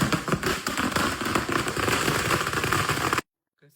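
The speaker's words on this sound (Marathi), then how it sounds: "फुल दिंगा तर डायरेक्ट फटाक्याची माळ लावतोय नाही का." A string of 1000 firecrackers goes off in a dense, rapid crackle of loud pops for about three seconds, then cuts off abruptly to near silence.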